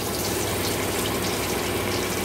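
Chicken pieces for chilli chicken fry in hot oil, a loud, dense and continuous bubbling hiss that stays constant and close, with no voices.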